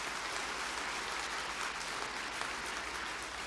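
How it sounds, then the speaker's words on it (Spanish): Congregation applauding during a Catholic homily by a Dominican priest, a steady wash of clapping from many hands that fills the whole stretch at even, moderate loudness with no voices over it. "Un aplauso para los sinvergüenzas,"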